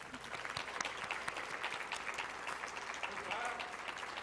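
At an ergonomics awards ceremony, an audience claps steadily for an absent honoree, a dense, even wash of applause lasting several seconds, with faint voices beneath.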